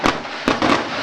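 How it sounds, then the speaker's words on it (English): Fireworks burst after a high school football win, two or three sharp crackling pops in quick succession within a second, loud and fairly near. "And we get some fireworks here for Cerro Gordo's win."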